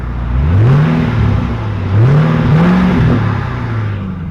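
A car engine at a street car meet, only just started, revs repeatedly in rising and falling sweeps, loud and close, with no talk.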